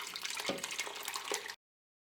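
Oxtail stew liquid, Irish style, is strained and splashes and trickles briefly for about a second and a half with faint drips. Then it falls silent.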